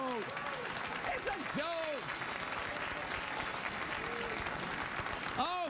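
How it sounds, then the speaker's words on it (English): A late-night talk show studio audience applauding steadily, with a voice talking over the clapping. "Oh, fine, applaud the mean-spirited crap, you bastards"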